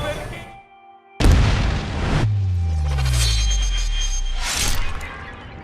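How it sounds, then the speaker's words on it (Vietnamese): A fortress self-destructing in the Wolfenstein video game: a sudden loud explosion boom after a quiet tonal passage, followed by long rumbling debris and a descending roar, with a second burst near the end. "Sau khi giết Wyatt, Deadhead đã kích hoạt hệ thống tự hủy của pháo đài và bỏ đi."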